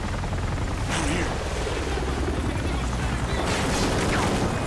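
Helicopter rotor drone mixed with bursts of gunfire and explosions in the video game Call of Duty Ghosts, a loud, dense and continuous battle din with sharp shots cutting through at a few points.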